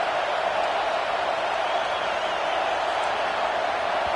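A football stadium crowd roaring through a defensive play at a college game, a dense, loud and unbroken wall of cheering and whooping that holds steady throughout.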